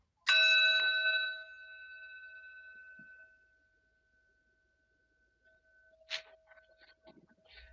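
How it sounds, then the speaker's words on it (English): A single meditation bell strike rings out clearly with a long, shimmering sustain that fades slowly over several seconds, followed by faint rustling and small movements. "So we'll have 1 bell to start and 3 bells to finish."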